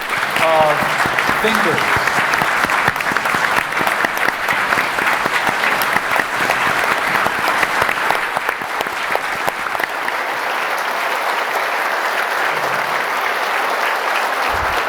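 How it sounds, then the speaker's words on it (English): Sustained audience applause for the closing speakers' panel at the Camden Conference 2024, a loud, dense roar of clapping filling the room and slowly thinning toward the end, with a speaker's voice briefly rising over it. "let's give a real round of applause for this amazing panel"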